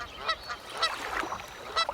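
Geese honk several times in short, nasal bursts at irregular intervals, moderately close, as a sound effect in a read-aloud version of The Ugly Duckling.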